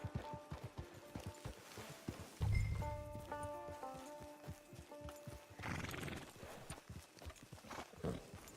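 A horse in Red Dead Redemption 2 clip-clops at a steady pace, lets out a clear whinny partway through, then carries on trotting with hoofbeats and tack rattles.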